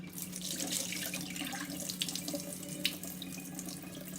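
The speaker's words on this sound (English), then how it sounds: "We're gonna give them one last good rinse with some fresh water." Tap water runs steadily into a kitchen sink as soaked dried beans get a final rinse, a continuous close splashing hiss with small bumps and no talking.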